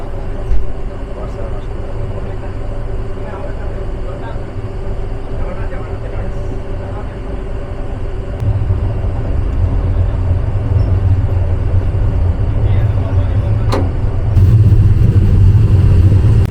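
The Parabat Express runs from Dhaka to Sylhet through tea gardens. A loud, continuous low rumble of the moving train grows heavier partway through, with a brief sharp clank near the end.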